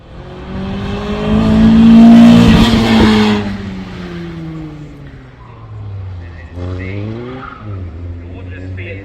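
A Fiat Cinquecento race car drives on a track, its engine rising loudly to a roar as it passes, then falling away and revving again through gear changes, with voices talking over it.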